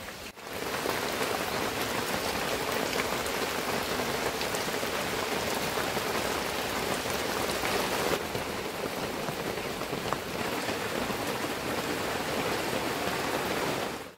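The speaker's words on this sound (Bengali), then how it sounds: "মাঝে মাঝে ঝুমঝম করে বৃষ্টি হচ্ছে, ভালোই বৃষ্টি হচ্ছে" Steady, heavy rain pours down in the Sundarbans in a dense, even hiss that continues without a break throughout.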